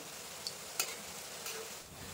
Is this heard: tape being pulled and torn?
no